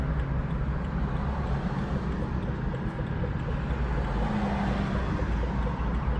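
A 2013 BMW 335is with the N54 engine idling, a steady, smooth low rumble heard from inside the car, even and unbroken throughout with no revving.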